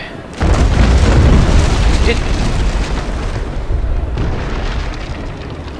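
Ship cannon broadside in the Naval Action video game: a loud sustained roar of booming shots that begins abruptly and rolls on for several seconds, with a second swell near the end.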